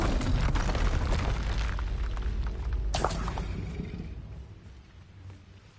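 Bombarda explosion spell in a video game, a deep booming blast with rumbling low end that rolls on, a sharp second burst near the middle, then a fading tail.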